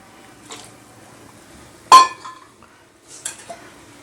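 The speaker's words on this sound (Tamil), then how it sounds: "அடுத்து தக்காளி சேர்த்துக்குவோம்." Tomatoes go into a pot of beef biryani with a sharp metallic clink of a utensil against the pot, framed by fainter scrapes and clatters before and after.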